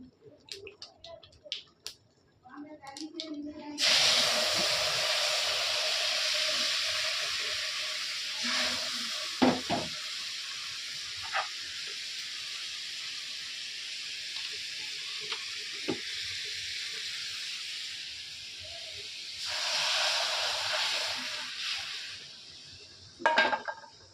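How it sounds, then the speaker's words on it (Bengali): Paneer fries in a pan with a loud, continuous hiss of hot oil. The sizzle starts after a few quiet seconds, then carries on with occasional clinks of a utensil and swells briefly near the end. "আর এখন এই পনিরটা ভেজে নিচ্ছি"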